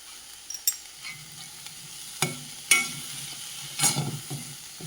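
Ginger, green chilli, chilli powder and asafoetida sautéing in a pan for masala oats upma, a soft close sizzle with several sharp scraping stirs of a spoon against the pan, no talking.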